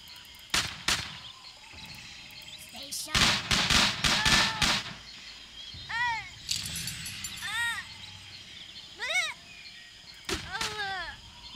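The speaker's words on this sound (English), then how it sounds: "Oh, I can throw grenades pretty far." Tiny Troopers 2 gameplay brings sharp grenade blasts and rapid popping bursts in clusters, mixed with whistling, chirping game effects as the action plays out, and a voice briefly talks over the noise.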